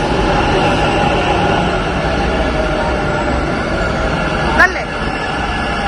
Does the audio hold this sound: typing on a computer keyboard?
no